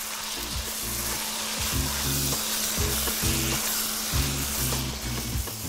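Chicken for chicken fajita sautéing in a pan with black pepper and salt sizzles loudly and steadily, with a rhythmic scraping stir repeating every second or so, close by and without talk.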